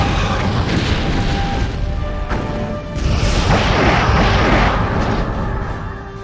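Rear torpedo tubes firing in Star Trek Bridge Commander, a starship battle with loud booming launches and explosive rumbles, one swelling blast midway over continuous engine hum and combat noise.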